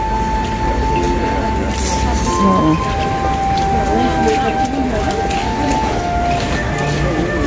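Steady outdoor rain hiss at the Tower of London fills the whole stretch, with faint mixed street noise and distant murmuring voices beneath it.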